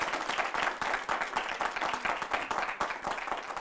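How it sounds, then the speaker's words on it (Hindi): An audience applauds loudly and steadily, many hands clapping in a dense, continuous patter with no speech over it. "आपके बात पे इतनी जबरदस्त ताली बजी है।"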